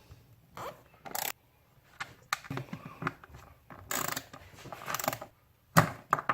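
A screw being driven into a threaded insert on a boat seat, with irregular bursts of ratcheting and grinding turns separated by short pauses, close and fairly quiet, no talk.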